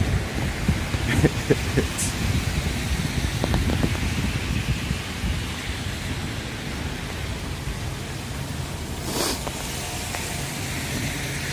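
Steady rain falls outdoors in Toronto, a constant broadband hiss with faint traffic-like rumble beneath and a couple of brief higher splashes.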